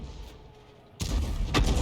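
A 105 leFH18B2 artillery gun fires in World of Tanks, a sudden heavy boom after a quiet stretch, followed by a rumbling tail with a second sharp burst close behind.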